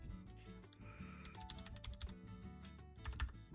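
Someone types rapidly on a computer keyboard, a dense run of close, quiet key clicks that continues throughout, with a few heavier taps near the end.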